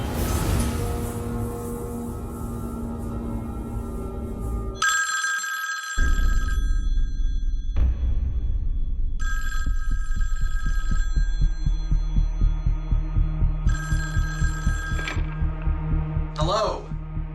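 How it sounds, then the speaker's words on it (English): A telephone rings in repeated electronic bursts, several evenly spaced rings over a low, throbbing, heartbeat-like pulse and droning hum. "Jason, answer the phone"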